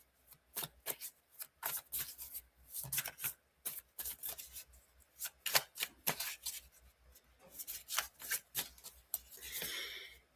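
Tarot deck being shuffled close up, many quick crisp riffles and slaps in uneven bursts with short gaps, fairly quiet and free of talk.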